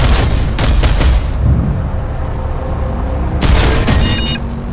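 Gunfire in the Planetside 2 beta shooter game, dense rapid bursts and booming shots, loud and close, in two heavy volleys with continuous rumbling battle noise between.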